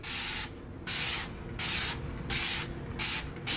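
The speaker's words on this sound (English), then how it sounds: "you want to take the sprayer and you want to just spray a nice easy coat all over it" Five bursts of a trigger sprayer misting cleaner onto a Weber Q 2400 electric grill in a steady rhythm, each hissy spray lasting about half a second with short pauses between, close by.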